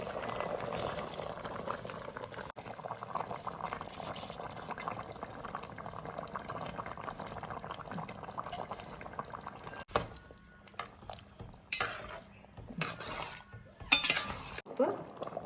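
Water boiling in a pot for mutton biryani rice, a steady bubbling and simmering hiss that carries on throughout, with occasional clinks and movement near the end.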